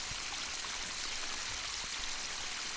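Water sprays and trickles steadily from a controlled leak in a farm irrigation line near a sweet corn field, a constant close hiss and patter with no talk.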